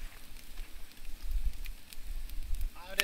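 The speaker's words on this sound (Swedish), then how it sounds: "Vår eld gör sitt jobb väldigt, väldigt bra kan vi säga." A campfire burns steadily outdoors, a low rumbling roar with scattered soft crackles and pops throughout, close and moderately loud, with a brief sharper burst near the end.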